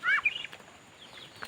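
Chickens on a small farm, a couple of short clucks up front followed by faint scattered fowl sounds, quiet and close.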